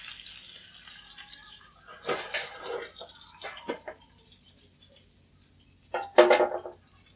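Vegetarian broth pours into a cooking pot, a few intermittent splashing gushes and liquid trickles with a clink near the end, close and moderately quiet, without talk.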